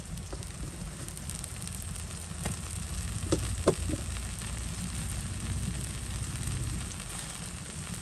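Spices and salt sizzle in hot mustard oil in a pan, giving a steady, even crackling hiss that lasts throughout, with a few louder pops in the middle.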